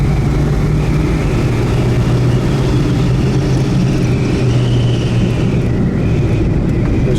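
A 1962 Buick Wildcat with a two-speed hydro turbo transmission pulls away and gathers speed, its engine a loud, steady drone with a slowly rising tone close by, no voices over it.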